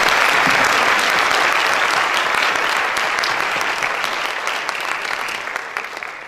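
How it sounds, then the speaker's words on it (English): A large audience at a local election candidate forum applauds loudly with dense, continuous clapping that slowly fades toward the end. "Let's all give them a round of applause"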